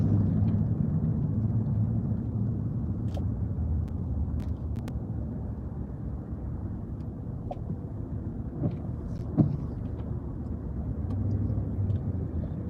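A car drives in bumper-to-bumper traffic on a California highway, heard from inside as a steady low rumble of engine and road noise with a few faint clicks and knocks and no talk.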